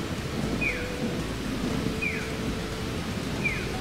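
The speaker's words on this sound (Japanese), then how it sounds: "すごい時折パラパラと雨が降ってきてます。" Light rain patters steadily in Sapporo near the Odori Park TV tower, a soft, even hiss that fills the whole stretch, with three short, thin electronic chirps recurring at regular intervals in the background.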